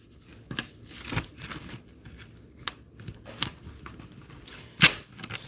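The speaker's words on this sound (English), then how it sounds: "So I'm shuffling these cards." Tarot cards are shuffled by hand in quiet, close-up bursts of papery riffling and soft slaps, irregular strokes with a sharper snap near the end.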